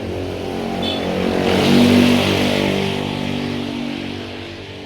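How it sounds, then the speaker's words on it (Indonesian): Motorbike passing close by on a street, a steady droning engine that swells toward the middle and then eases off as it moves past, heard alone without any voices. "Stupid motor as always"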